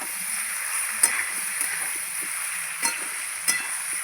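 Vegetables frying in hot fish oil in a pan, a soft steady sizzle with a few brief scrapes and clinks of stirring, close and alone without talk.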